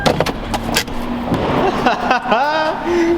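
A wrecked Hyundai Genesis Coupe creeps along with scraping and rubbing noises, clunks and a squeaky metallic grind, the engine hum steady underneath.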